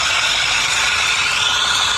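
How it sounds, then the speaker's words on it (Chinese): A car engine with a faulty balance shaft runs with a dense, steady mechanical whir and a fine rattle, close and continuous, with no voices. "平衡轴异响"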